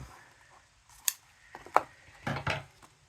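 Scissors snip the ends of a knot in a craft project, a few crisp separate cuts close by with small handling rustles between them in an otherwise quiet room.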